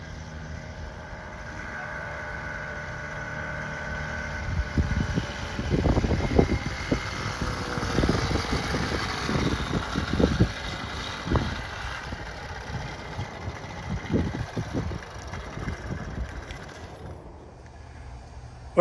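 A homemade motorized bicycle engine runs steadily with a low, rough drone, and louder uneven revving bursts pick up midway before it settles back down toward the end.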